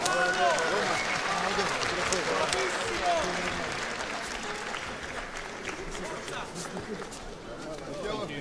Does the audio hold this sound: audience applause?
yes